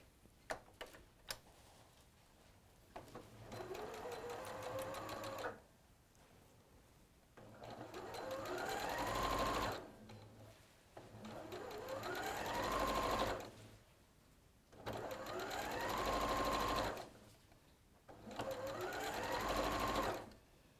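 An overlocker sewing machine stitching a small hem runs in several loud, whirring bursts, each a few seconds long, separated by short quiet pauses with light clicks.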